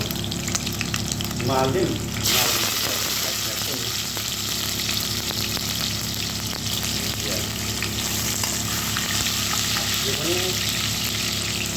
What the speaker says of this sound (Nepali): अब प्याज चलाउनु हो।